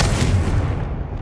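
Confringo blasting spell exploding in Hogwarts Legacy, one short, loud, booming burst that decays quickly.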